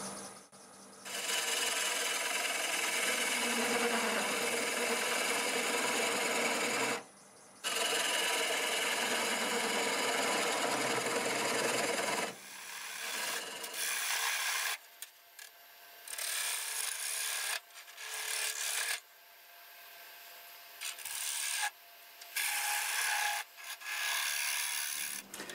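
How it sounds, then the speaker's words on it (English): A half-inch bowl gouge cuts a London plane bowl on a wood lathe at 620 RPM, giving a loud, steady rasping shave that breaks into shorter intermittent cuts with pauses, close and alone. "Half inch bowl gouge, 620 RPM."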